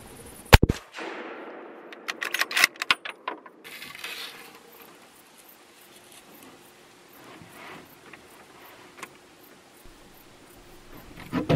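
Rifle shot at a roebuck during a summer hunt from a raised hide, one sharp loud crack near the start followed by metallic clicks of the action being worked, then quiet outdoor ambience.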